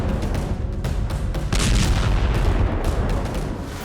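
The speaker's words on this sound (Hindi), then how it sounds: "ये यूएसवी रूस के एक जहाज से टकराया और विस्फोट हो गया" A drone boat strikes and explodes against a Russian ship in the Kerch Strait, a loud, sustained roar of blast and rumbling boom filling the whole stretch, with a swelling surge midway before slowly easing.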